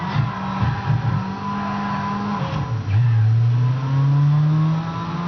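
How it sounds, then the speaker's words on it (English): A car in Midnight Club LA revs and accelerates, engine pitch climbing steadily through gear changes, a loud close roar with one shift dip midway and rising again. "let's see the acceleration and I mean the power in this car now"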